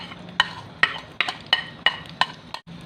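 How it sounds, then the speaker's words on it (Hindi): Onions go into hot ghee in a pan for nargisi kofta, with a faint sizzle under a run of about seven sharp, evenly spaced metallic clicks from a spoon striking the pan. "घी हमारा गर्म हो चुका है। अभी हम इसमें डालेंगे प्याज।"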